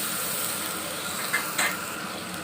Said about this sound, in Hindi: टमाटर गलने तक हम इस अच्छी तरह भुनाई कर लेंगे।